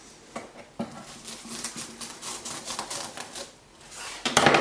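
Cling film stretched over a salmon fillet is cut and handled in quick, close crinkly snips and rustles, with a sharper burst of crackling at the end.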